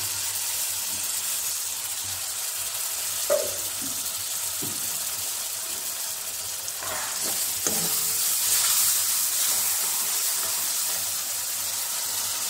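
Masala for chana sizzles steadily in a pan as a little spice-rinsing water is poured in, giving a hissing, bubbling fry with a few soft stirring knocks, close and moderately loud throughout.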